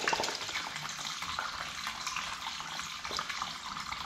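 Water gushing steadily from a cut, leaking plumbing pipe, a close, continuous hiss and splash that holds level throughout with no talk.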